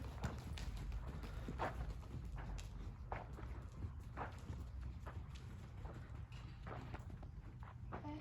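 A horse trots in a riding arena, its hoofbeats landing in a fairly even rhythm on soft footing, moderately faint and at a middle distance, with no talking during the stretch.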